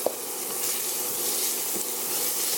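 Minced garlic and onions sautéing in a pan with cumin seed, a soft steady hiss of oil close by, with a couple of light taps from a utensil.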